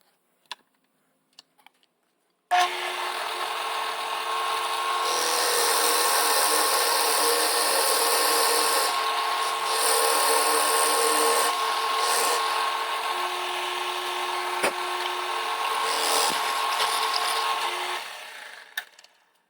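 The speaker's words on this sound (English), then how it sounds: "Forstner bit for the finger hole." A Forstner bit drills a finger hole into wood, starting abruptly after a few small knocks and running as a loud, steady whirring grind for about sixteen seconds before stopping.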